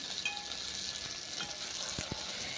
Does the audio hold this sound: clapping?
no